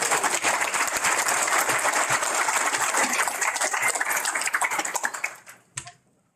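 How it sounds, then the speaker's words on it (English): Loud, sustained audience applause at a proclamation signing for Suicide Prevention and Recovery Month, dense clapping filling the room for about five seconds before tapering off to a few scattered claps. "Everybody just give a round of applause for those that are in recovery."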